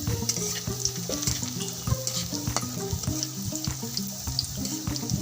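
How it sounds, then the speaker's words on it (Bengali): Finely chopped garlic, about four cloves, lightly frying in a pan over very low heat, a gentle sizzle under frequent clinks and scrapes of stirring, nearby. "রসুনগুলো হালকা ভেজে নেব"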